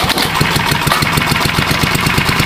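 A small engine fitted with a vaporizer carburetor runs steadily and loud close by, a continuous rumbling drone with fast regular pulsing and no voices.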